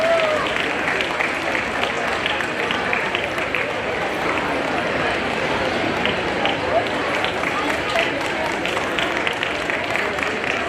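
Sustained applause from an audience at a community award ceremony fills the whole stretch, steady and dense, with a voice speaking over it.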